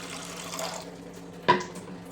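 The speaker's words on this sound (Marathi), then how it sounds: "कढईमध्ये पाणी ठेवायचे" A short splash of water being poured into a wok, preceded by a soft running-water rush, close by and fairly quiet.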